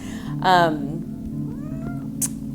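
A 17-year-old cat lets out one clear, drawn-out meow, followed by a softer, quieter second call over a low steady hum, up close indoors.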